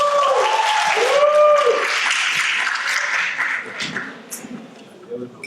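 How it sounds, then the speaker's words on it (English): Applause from an audience at a Dallas real estate networking event, a dense steady wash of clapping that swells then gradually thins out, with a voice or two talking faintly underneath. "please give me a round of applause"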